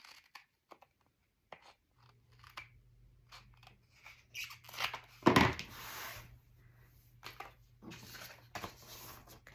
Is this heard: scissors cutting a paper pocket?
yes